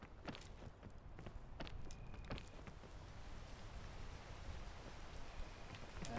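Soft steady rain patters in the climbing video game PEAK, a quiet continuous hiss with scattered light taps and thuds over it.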